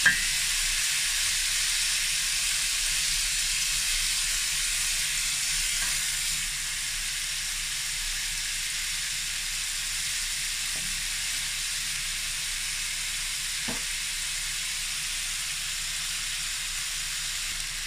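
Garlic and onion sauté in a hot pan while making chicken afritada, giving a steady, even sizzle and hiss that runs the whole time, close and constant, with no talk over it.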